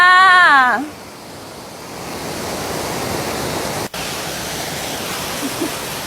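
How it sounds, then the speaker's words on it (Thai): The fifth tier of a nine-tier waterfall at Suan Phueng, Ratchaburi, rushes as a steady, broad roar of falling water that holds evenly, with a brief tonal sound at the very start. "ที่เห็นอยู่ด้านนี้ก็คือน้ำตกชั้นที่ 5"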